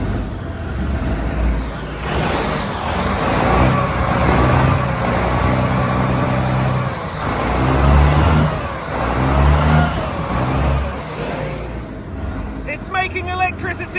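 An FV432 armoured vehicle's engine runs under throttle, a steady low mechanical roar with swelling revs throughout, while people talk over it and a faint clatter appears near the end.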